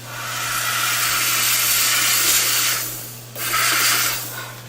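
A dental lab steamer hisses loudly over orthodontic retainers in a continuous jet, briefly cutting off near the end before blasting again.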